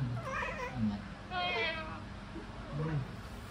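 A cat meows several times, drawn-out and whiny, nearby. Soft human talk is audible in between.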